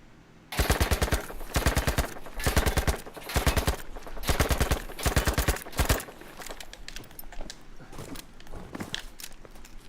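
Rapid bursts of EMP gun fire in the Battlefield V shooting lane, several loud automatic strings separated by short pauses, close and dominant, followed by quieter game ambience.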